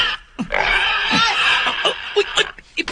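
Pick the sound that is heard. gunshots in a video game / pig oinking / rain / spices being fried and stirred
pig oinking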